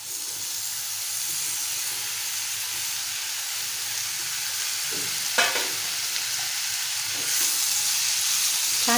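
Finely chopped wild mushrooms sautéing with softened tomato in oil in a pan, a steady hissing sizzle with a few sharp stirring scrapes and clinks near the end, no voices.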